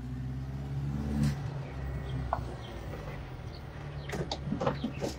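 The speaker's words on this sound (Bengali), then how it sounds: "আচ্ছা গাড়িটা ঘুরান আলামিন ভাই" A used car idles and then revs as it is driven and turned outside an owner's house in Bangladesh, a low steady engine hum with brief throttle surges and a few sharp clicks and chirps near the end.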